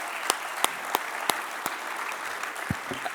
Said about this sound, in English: So I want you to take a minute and just applaud her for that